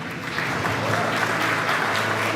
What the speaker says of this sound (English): please feel free to keep the claps coming.